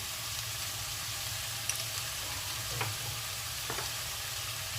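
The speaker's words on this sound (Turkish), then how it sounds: "sebzelerimiz gayet güzel sotelendi" Vegetables with a spoonful of salt sauté in a pot for a Turkish vegetable soup, giving a steady, even sizzle with a few soft clicks from stirring and no talk.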